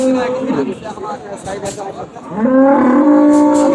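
A large bull at a cattle market lets out loud, drawn-out moos nearby, the second call long and sustained, amid faint crowd chatter.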